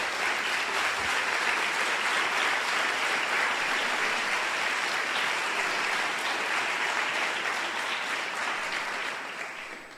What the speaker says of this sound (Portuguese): aplauda Jesus com muita alegria nesta manhã